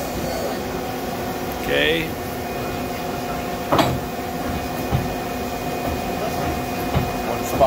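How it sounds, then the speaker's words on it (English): Mazak SQT 18MS CNC turning center with its turret pulling back and indexing: a steady machine hum with a brief whir and a sharp clunk of the turret locking, plus scattered smaller knocks, and a short spoken word. "I'm going to pull the turret and move it back, and then let's index it."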